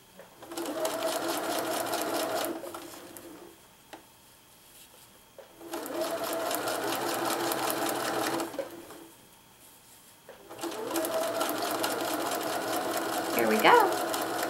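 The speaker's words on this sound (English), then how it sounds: "now I've stitched those two pieces together" A sewing machine stitches quilt fabric pieces together in three steady bursts of rapid mechanical whirring and needle clatter, separated by short pauses, close up with a person talking over it.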